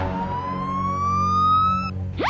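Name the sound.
ambulance siren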